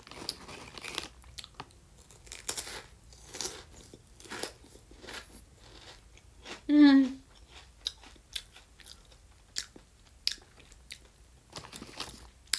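Crunchy chips from a packet are bitten and chewed close to the mic in scattered sharp crunches, with a brief murmured vocal sound in the middle.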